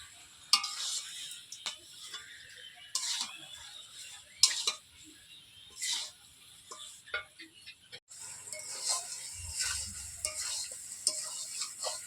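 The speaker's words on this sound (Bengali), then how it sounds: "ভালোভাবে মাংসটাকে কষিয়ে নেবো" Chicken pieces are stir-fried in oil with ground spice paste in a pan. Intermittent spatula scrapes and taps rise over a soft, low sizzle, growing busier toward the end.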